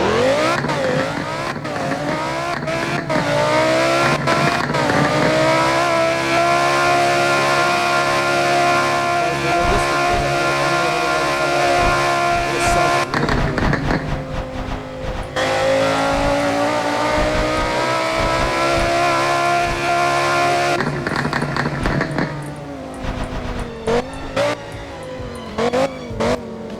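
Lamborghini Huracan STO in the Roblox game Driving Empire, its game engine sound starting up and revving loudly through sustained rising and falling tones with short breaks, close and continuous with no talking.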